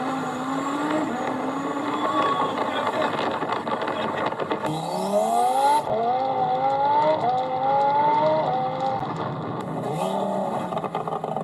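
A car engine pulls hard through the gears, its loud tone climbing in repeated rising sweeps that drop at each shift, with brief lifts and downshifts between pulls.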